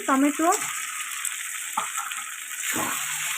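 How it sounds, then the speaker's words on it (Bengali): Tomato and ground spice paste fry together in a pan for a home-style chicken and potato curry, a soft steady sizzle with stirring scrapes and a brief voice at the start. "টমেটোটা আবার আমি 3 মিনিট ধরে ভালো করে কষিয়ে নেব"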